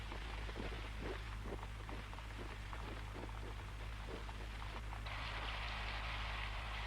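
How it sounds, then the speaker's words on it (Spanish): Steady rain falls in a forest setting from an animated series, a constant broadband hiss with scattered drop patter that brightens and thickens near the end, with no talk. "Ya ha empezado a llover."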